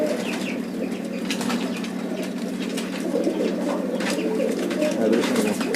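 Pigeons flap their wings in rapid bursts while being handled, and soft coos run beneath, close and fairly loud, with someone talking quietly in the background.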